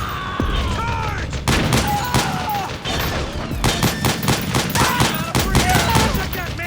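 Rapid bursts of gunfire from soldiers in Metal Gear Solid 4, with repeated loud volleys and sharp cracks layered over a dense battle din.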